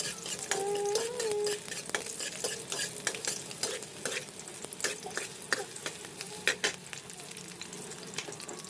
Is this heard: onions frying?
yes